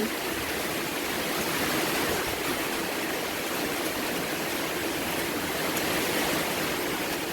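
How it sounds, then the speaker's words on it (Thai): Heavy rain and wind make a constant, dense roar that stays even throughout, with no voices. "ทั้งลมทั้งฝน ฝนตกกับ"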